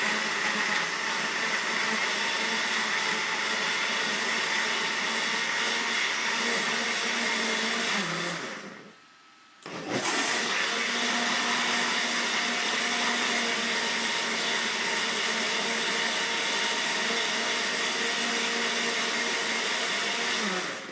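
Blender whirring as it blends lime with frozen water into a smoothie, a loud, steady, close grinding roar that cuts out briefly around the middle and then resumes at full strength, with no talking.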